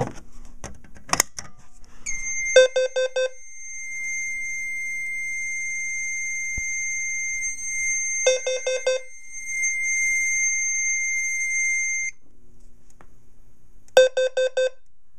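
A Fire-Lite MS-5UD fire alarm panel under test sounds clipped electronic beeps in temporal bursts, alongside a sustained high steady tone, loud and close, with handling clicks between the bursts.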